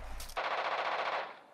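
Machine-gun fire in the radio-command strategy video game Radio General: a single short, rapid burst of shots, loud and dense, lasting about a second before tailing off, with no talking.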